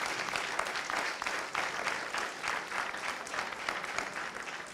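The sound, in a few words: audience applause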